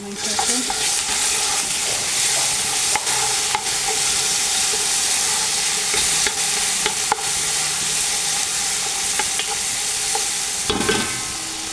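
Onion and garlic fry in a little oil in a pan as rice is prepared, a steady close sizzle punctuated by repeated clicks and scrapes of a spoon stirring.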